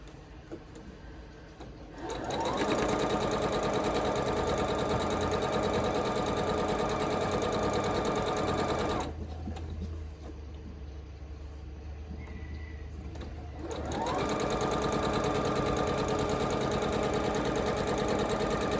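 A sewing machine running in long steady bursts of rapid mechanical stitching, pausing briefly in the middle before starting up again.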